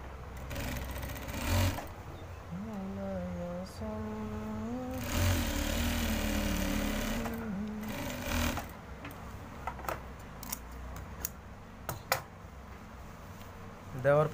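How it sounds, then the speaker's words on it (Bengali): Sewing machine stitching a boy's pajama in bursts of steady buzzing, with quieter pauses between runs and faint handling noises afterward. "এদিকে একটা চাপ সেলাই দিয়ে দিতে হবে এখানে, তাহলে ফিনিশিংটা সুন্দর হবে।"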